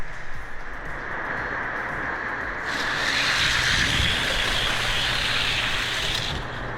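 Matchbox toy cars racing down a track indoors, a continuous rolling rumble and whir that grows a little louder midway before a clatter near the end, alone without talk.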